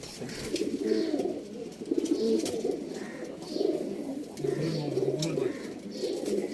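Domestic pigeons in a loft coo steadily in repeated low, rolling phrases, close by and fairly loud, with a few brief higher chirps mixed in.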